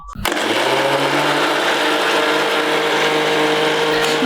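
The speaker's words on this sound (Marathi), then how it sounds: "त्याला फिरवून घेते मिक्सरला बारीक" A mixer grinder whirs loudly and steadily as it blends mango pieces for a mango cake, switched on abruptly and running continuously with a sustained high-pitched motor whine throughout.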